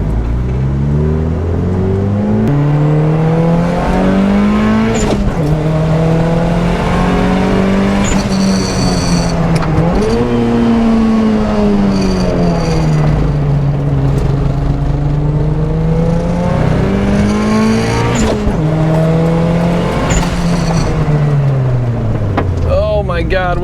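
A turbocharged car is driven hard through a residential corner with its brakes strained. The engine roars loudly and continuously, its pitch rising and falling in long swells as it revs and eases off.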